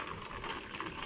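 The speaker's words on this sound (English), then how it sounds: "So let me find something to pour this in." Fuel pouring and splashing steadily into a container, a brief continuous gush close by with no voices.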